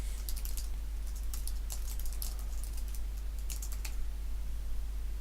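Fingers type on a computer keyboard, entering an email subject line. The keystrokes come in quick irregular bursts of clicks over a constant low hum, close and moderately loud, with no talking.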